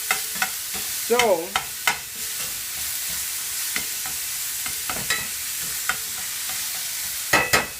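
Ground beef fries in a little oil in a hot pan for red chile enchiladas, giving a steady close sizzle with intermittent spatula scrapes and taps, and a voice speaks briefly.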